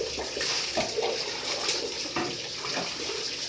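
Tap water runs steadily while someone washes their feet, a continuous splashing flow with small shifting gurgles and spatters, moderately close and fairly quiet.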